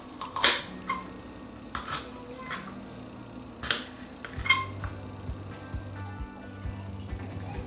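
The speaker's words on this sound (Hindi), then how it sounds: "और अब हम लेंगे बेल पेपर और इसको भी पीसेस में कट कर लेते हैं" A knife slices orange and green bell peppers into pieces on a board in a home kitchen, giving scattered sharp cuts and taps at an uneven pace, fairly close but quiet, with a soft hum underneath.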